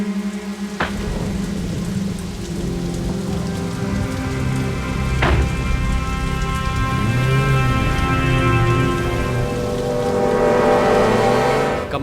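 Steady rain pours on surfaces nearby, a dense even hiss with a few sharp cracks and a distant thunder rumble, no voices over it.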